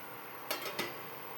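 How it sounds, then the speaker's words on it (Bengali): A lid goes onto a cooking pan of spicy drumstick-flower curry simmering on low steam, two quick soft metallic clinks close together over a quiet kitchen background. "দিয়ে এবার ঢাকা দিয়ে দেবো।"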